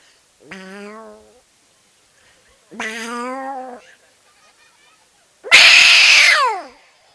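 A voice imitates fighting cats with three drawn-out yowls separated by pauses, the last one loudest and harshest, like a screeching caterwaul.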